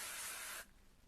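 Waterless dry conditioner sprays from a can onto hair, a single hissing burst about half a second long, close and bright, cutting off sharply into near silence.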